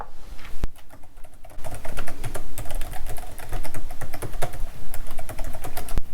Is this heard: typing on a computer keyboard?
yes